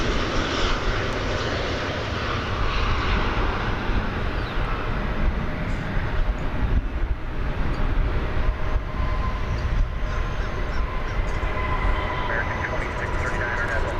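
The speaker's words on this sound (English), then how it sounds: "We can hear Delta Flight 839 coming in." Delta Flight 839 comes in to land at DFW Airport, a steady broad roar of jet engines held at a distance over the whole stretch, with outdoor background noise around it.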